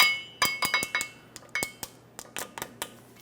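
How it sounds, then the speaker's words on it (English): A new metal cotter pin being fitted to the axle nut on a 2003–2009 Dodge Ram 2500 with a 5.7L V8, heard as a quick series of close, light metallic clicks and clinks over a faint steady hum. "Install a new cotter pin."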